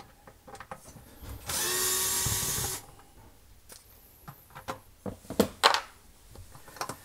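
A powered driver whirs for about a second while removing a hidden screw on a KitchenAid dishwasher, followed by scattered clicks, taps and handling clatter nearby.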